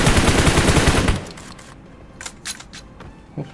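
Rapid automatic gunfire in PUBG Mobile, a loud, dense burst for about a second that cuts off abruptly, followed by a few sharp, scattered shots and clicks at lower volume.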